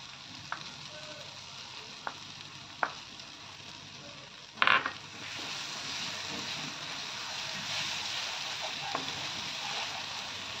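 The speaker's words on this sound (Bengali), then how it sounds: "এবার এই বেরেস্তা আর দইয়ের পেস্টটা দিয়ে দেব" Fried onion and yogurt paste dropped into a hot pan for a Bengali prawn curry: a few light clinks, then a sudden loud splash and burst of sizzling that settles into a steady, close frying hiss.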